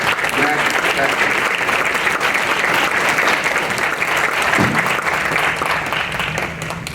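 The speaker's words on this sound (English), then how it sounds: "Give him a round of applause as he comes." Audience applause greets a presenter arriving to give a talk on building a grassroots political machine, a dense, steady wash of many hands clapping at full volume throughout, with a brief voice cutting in near the middle.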